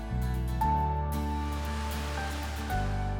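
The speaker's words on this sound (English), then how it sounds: "The park is well known for its recreation and trails, but also features an excellent natural waterfall." A natural waterfall at Prompton State Park in the Pocono Mountains' woods, a steady broad rush of falling water with a low rumbling undertone, continuous and fairly close, no voices.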